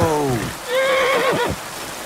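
A black horse in Kingdom Come: Deliverance II whinnies twice, a short descending neigh followed by a longer wavering one, loud and close with some background noise.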